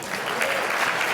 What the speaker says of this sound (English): I can hold for applause if needed